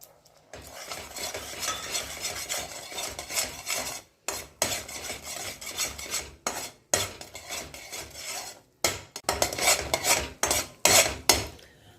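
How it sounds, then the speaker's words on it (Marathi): A spoon stirs thick jaggery syrup in a pan while it cooks down for jaggery makhana, giving a steady scraping, sizzling texture in close, continuous strokes with a few short pauses and no talk. "एकसारखा हलवत रवा नंतर खाली गुळ करपतं"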